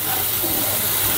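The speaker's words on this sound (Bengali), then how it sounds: "এই যে আর আমার এখানে পাঙাশ মাছ ভুনা হচ্ছে" Pangas fish bhuna sizzling in a pan, a steady broadband hiss of frying oil that holds constant throughout, close and fairly loud with no talk over it.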